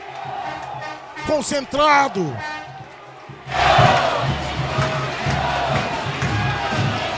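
Football stadium crowd at a state championship final chanting a player's name, first heard faintly under a commentator's voice, then surging into a loud, rhythmic, sustained chant with shouting.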